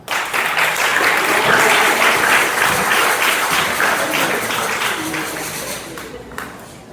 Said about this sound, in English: A round of applause for Oliver, Joseph, Siamo, Ben, and Chema.